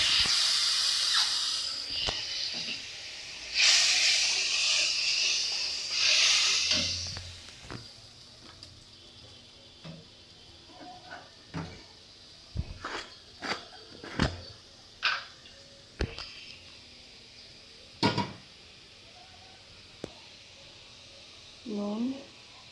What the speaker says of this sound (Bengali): সামান্য পরিমাণে জল দিয়ে ভালো করে কষাতে হবে